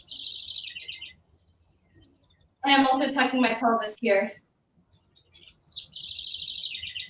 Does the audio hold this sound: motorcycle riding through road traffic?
no